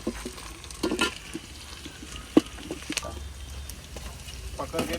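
Onions and whole spices fry in a pan for a goat trotter curry cooked outdoors on a farm, a low crackling sizzle with occasional stirring knocks, while people chat nearby.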